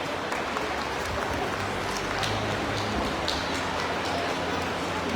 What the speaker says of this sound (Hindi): मोदी जी के लिए जोरदार तालियां